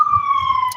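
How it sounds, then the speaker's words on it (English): Ambulance siren heard briefly as a steady, slowly falling wail, moderately loud and close, a single sustained tone with faint traffic rumble beneath. "There's an ambulance."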